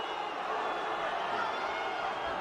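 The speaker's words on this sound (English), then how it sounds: "Crowd got excited, but now the moment has passed." A boxing arena crowd roars in a steady, dense wash of cheering throughout, loud and continuous with no single voice standing out.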